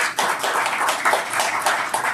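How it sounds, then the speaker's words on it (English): Audience applause for a speaker being welcomed on stage at an evening talk, a moderate wash of clapping hands that holds steady for a couple of seconds without any speech. "Please give him a round of applause."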